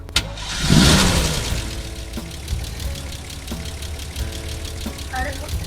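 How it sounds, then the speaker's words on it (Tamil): A taxi in the Roblox farming game starts up and is driven to park, a rising engine start followed by a steady mid-pitched idle with occasional clicks, close and fairly loud. "இப்போ இந்த டாக்ஸியை கொண்டு வந்து வெளியே நிறுத்திடலாம்."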